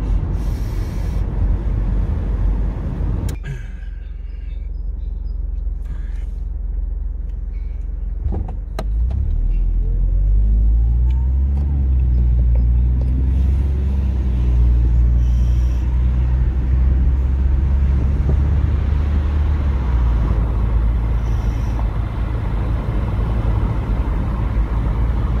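A car driving around the neighbourhood, heard from inside: a steady low engine and road rumble that rises as the car pulls away and accelerates, with a few clicks and knocks along the way.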